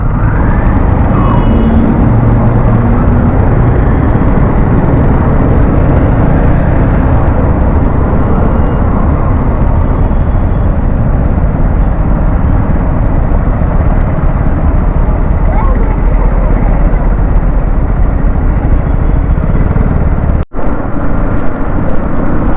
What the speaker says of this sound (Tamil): என்ன ஒரு டிராஃபிக் ஜாம்.